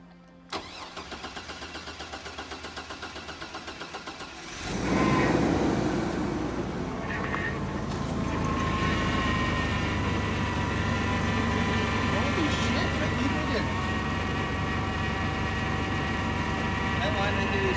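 Car engine cranking with a fast rhythmic starter whirr, then catching and settling into a steady idle after a fuel leak repair, with people talking nearby.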